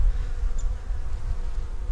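Bees crowd an open beehive being checked after a storm, making a dense, steady low buzzing drone close by with no voices.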